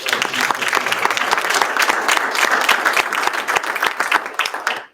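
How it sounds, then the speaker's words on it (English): Loud, sustained applause from a town hall audience, many hands clapping together for several seconds before cutting off. "Give her a round of applause, please."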